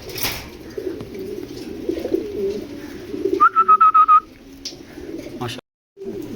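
A male pigeon coos in a short run of about six rhythmic, evenly spaced notes, close and clear, over a steady background hum at a Bangladeshi pigeon farm.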